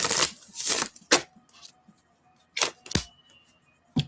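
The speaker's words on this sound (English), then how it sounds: "One more shuffle." Oracle cards being shuffled by hand in a few separate bursts of crisp riffling and sliding, close and fairly loud, with short quiet gaps between them and no talking.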